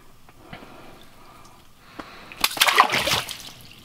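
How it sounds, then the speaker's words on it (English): A caught lake fish released back into the water splashes loudly in a short burst of sloshing and splattering, close by after quieter outdoor ambience. "Let's get her back in the water."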